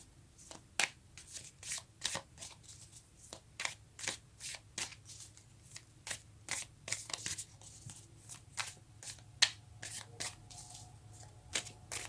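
Tarot cards being shuffled by hand in a quiet room, a long run of crisp riffling snaps and soft slides coming in uneven bursts, close and fairly quiet throughout.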